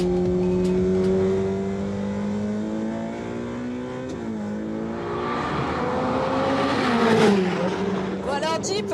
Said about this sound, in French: Bon alors Jeep, c'est les premiers mètres sur circuit